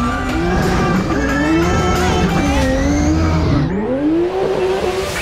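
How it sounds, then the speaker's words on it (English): A professional drift car screams close by at high revs while its tires squeal through a slide. The engine pitch dips and then climbs again near the end. "this is my professional drift car"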